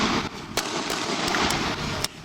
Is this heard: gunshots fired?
yes